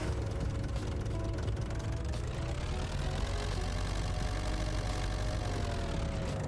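A vehicle engine runs in Farming Simulator 25 with a steady, dense drone that holds level and unbroken throughout, close and fairly loud, with no talking.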